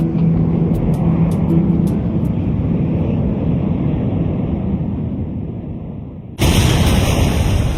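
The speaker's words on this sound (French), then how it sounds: "Atlantique, emportant la valise de M. Singh, une explosion retentit dans l'aéroport Narita de Tokyo." Suitcase bomb going off at Narita airport in Tokyo, a sudden loud blast bursting in after a long, steady low rumble of aircraft-like engine noise.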